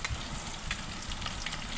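Spices sizzle and crackle steadily in hot oil in a pan for a Telangana-style curry, a dense close hiss with small popping spits and no talk over it.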